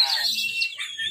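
Songbirds at an Indonesian bird song contest chirp in a brief, bright burst of high trills and tweets, close and fairly loud against the noisy event.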